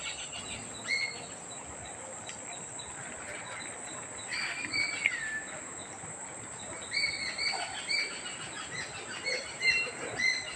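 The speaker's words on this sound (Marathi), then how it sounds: "पक्ष्यांचा आवाज येतो" Birds chirp and call intermittently in a Konkan village, bright short calls rising over a steady insect and cricket drone, moderately distant and not very loud.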